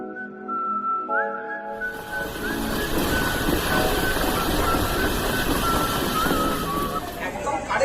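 Train pulling into NJP (New Jalpaiguri) railway station in India: a drawn-out whistle-like squeal of braking wheels at first, then a loud, close rumble and rattle of carriages rolling steadily past.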